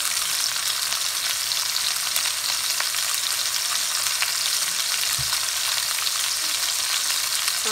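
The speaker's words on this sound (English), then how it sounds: "we just want to singe that outside" Beef short ribs searing in a hot pan on a stovetop, giving a loud, steady sizzle with crackling spits throughout and no voices.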